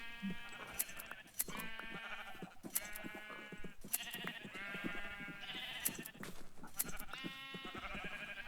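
Repeated sheep bleats in a video game, several quavering calls spaced a second or so apart, moderately close over faint game ambience with no talk.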